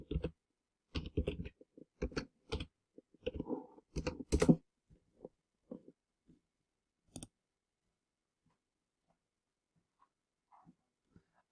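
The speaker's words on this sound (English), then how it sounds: "Let's just type in Illuminati." Quick bursts of key taps on a computer keyboard, close and crisp, then a few scattered clicks that fade into near silence, with no voices.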